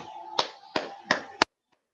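Four crisp hand claps land about a third of a second apart, loud and close in a quiet room, and the last one is followed by silence.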